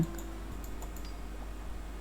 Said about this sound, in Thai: เพื่อนก็สามารถ คลิกลงไปได้หนึ่งที